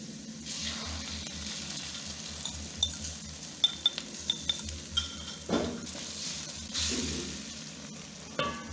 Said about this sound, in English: So then we'll whisk this.